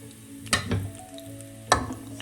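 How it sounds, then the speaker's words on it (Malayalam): Half a teaspoon of cumin seeds crackling and sizzling in hot oil for a bhindi masala, a steady frying hiss broken by two sharper pops and spatters. "എണ്ണ ചൂടാകുമ്പോൾ അതേ ഓയിൽ നമുക്ക് 1/2 ടീസ്പൂൺ ജീരകം ചേർക്കാം"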